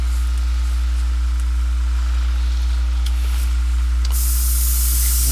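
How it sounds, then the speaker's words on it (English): Airbrush spraying paint, a steady close airy hiss over a constant low compressor hum, growing brighter and louder near the end. "getting this airbrushing done"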